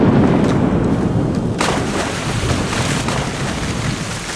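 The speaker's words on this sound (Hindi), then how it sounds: "उसकी पुकार सुनते ही आसमान में बिजली कड़कने लगी।" Sharp thunder crashes over a dense hiss of storm rain in a Hindi animated snake-prince tale, loud and continuous, with a sudden crackle partway through.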